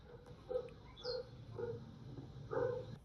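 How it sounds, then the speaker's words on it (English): A dog barking inside a house, faint and muffled from another room, a series of short yips and barks spaced about half a second apart over a low background rumble. "we hear the dog barking pretty much the entire time"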